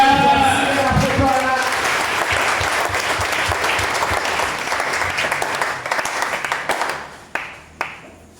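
A church congregation applauding the Lord, loud sustained clapping from a large crowd that thins into a few scattered claps at the end, with a voice speaking over the start.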